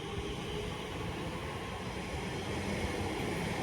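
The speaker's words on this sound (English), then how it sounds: "So here goes the Elizabeth Line service." An Elizabeth Line train, a nine-carriage walk-through set, pulls out of a station platform with a steady, broad rumble and rolling wheel noise that holds evenly and close throughout.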